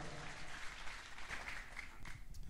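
A church congregation applauds in a steady, dense wash of clapping that lasts the whole brief moment and sounds somewhat distant and roomy.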